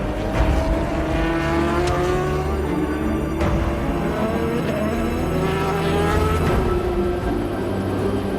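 An LMP2 race car at Le Mans, a Jota entry, crossing the finish line, its engine droning loudly with rising and falling pitch through gear changes amid a broad roar of track noise.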